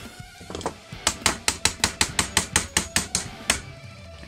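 A pin is driven into the gearbox of an Ares Amoeba CCR airsoft M4 electric rifle, making a close run of about a dozen sharp, evenly spaced metallic taps, with no voices.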